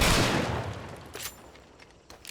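A Spectre shotgun fires in the game Hunt: Showdown: one loud blast rings out and slowly decays, followed by a few quick mechanical clicks as the weapon is cycled.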